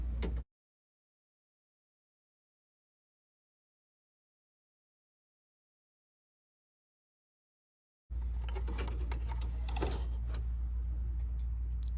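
An embroidery machine stitches down a piece of a pineapple-themed crossbody bag, starting up after a long stretch of silence with a steady, close mechanical rattle and whir for the last few seconds.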